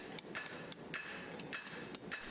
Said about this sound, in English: You'll want to use a sensible hammer for this, nothing smaller than 8 pounds